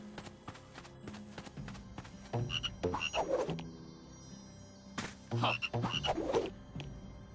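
Croaking from the super frog hat in the Lego Movie 2 Videogame sounds in two clustered bursts of cartoonish ribbits, each a few seconds apart, set over light game background sounds and soft tapping steps.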